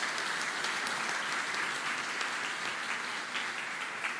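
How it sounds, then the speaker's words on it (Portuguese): Church congregation applauds after a Gospel reading, a dense, even roar of clapping from many people, steady and somewhat distant for the whole stretch. "Pode aplaudir a palavra de Deus."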